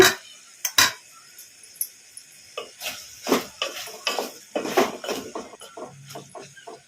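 Pan lid lifted and a spoon stirring frying brinjal in a pan: a scatter of clinks and scrapes, some sharp metallic knocks, irregular and close, with no one talking.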